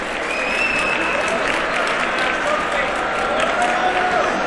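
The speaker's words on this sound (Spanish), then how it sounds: "el primer aplauso fortísimo es para vosotras y para vosotros" Loud, dense audience applause at a live music event for Radio 3 on Día de los Museos, a sustained wash of clapping and crowd noise that fills the clip.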